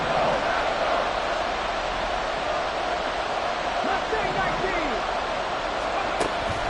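Stadium crowd at a football game, a steady dense roar of cheering fans holding loud through the whole stretch ahead of a big third down, with a faint voice or two under the wash.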